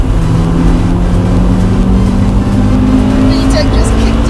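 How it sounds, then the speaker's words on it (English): Honda Civic Type R EK9 with a Mugen twin-loop exhaust, its engine droning loud and steady as VTEC engages, with raspy high revs held throughout and faint talk underneath. "Vtec just kicked in, yo!"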